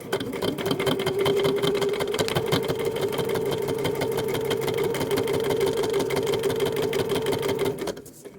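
A sewing machine stitches a foundation paper pieced seam in one continuous, loud, rapid chatter of needle strokes that runs for several seconds and stops abruptly at the end.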